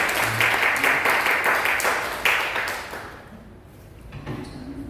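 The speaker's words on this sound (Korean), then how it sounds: "박수 한번 더 하겠습니다." A church congregation at a Sunday worship service claps together in a dense, roomy burst of applause that fades out after about three seconds, leaving quiet murmurs.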